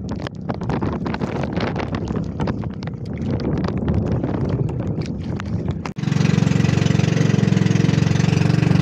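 A small fishing boat's engine with a faulty, poorly running motor is heard outdoors in wind, first chugging with rapid knocking, then after a brief drop settling into a loud, steady low idle.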